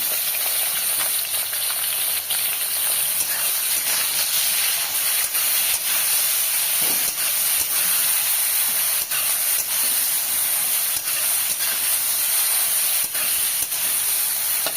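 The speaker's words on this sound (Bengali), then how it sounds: "বেগুনটাকে একটু ভালো করে ভেজে নেব" Thinly sliced small pieces of seasoned eggplant frying in oil for neem-begun; a steady, close, dense sizzling hiss continues throughout, dotted with faint regular ticks and pops.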